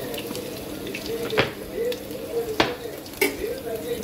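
Garlic added to hot oil in a home kitchen pan sizzles with a steady crackling hiss, punctuated by a few sharp spattering pops, while someone speaks nearby.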